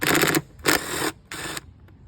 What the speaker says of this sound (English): so we'll take this rear tank mounting bolt out